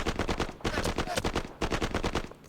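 Rapid, repeated bursts of gunfire and artillery pound in a fast, even rhythm during an Israeli attack in the Middle East 67 wargame, loud and continuous with no speech.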